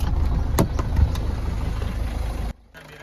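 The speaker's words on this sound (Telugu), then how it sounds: "ఇంజన్ నాయిస్ కూడా ఎలా ఉందో మీరు ఒకసారి చూడండి" Diesel engine idling in a 2014 Ford EcoSport Titanium Plus with a 1.5 litre engine, a steady low hum with a few clicks, then the sound cuts out abruptly near the end.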